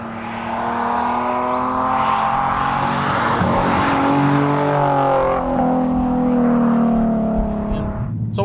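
Naturally aspirated V6 of a Nissan 370Z Nismo, a loud steady engine drone with rising and falling harmonic pitch as it revs, then cutting off abruptly near the end.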